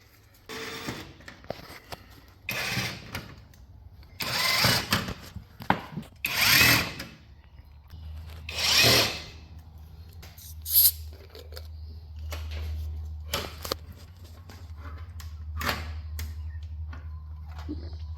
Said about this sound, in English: I'm taking screws off.